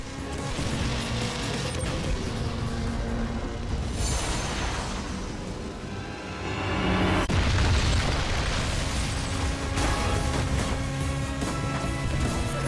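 Route-change explosions in the racing video game Split Second make a dense, continuous roar of booms, crashes and collapsing debris that stays loud throughout, with heavier blasts swelling partway through.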